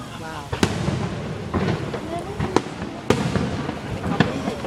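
Fireworks bursting outdoors, with several sharp cracking pops spaced a second or so apart over a constant crackle and rumble, while people talk nearby.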